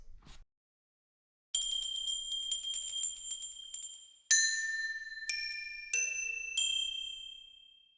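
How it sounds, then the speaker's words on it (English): Bright metallic bells sampled from a Viking-themed virtual instrument library ring out, a cluster of tinkling strikes first, then several single clear tones that each ring and slowly fade. "And you get some bells."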